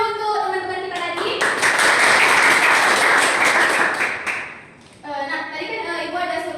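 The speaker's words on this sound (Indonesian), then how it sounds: "tepuk tangan dulu untuk teman-teman kita tadi" Classmates in a classroom applaud after a role play, with a burst of clapping that builds and holds for about three seconds and then fades. A teacher talks before and after it.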